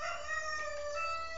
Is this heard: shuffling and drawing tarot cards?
no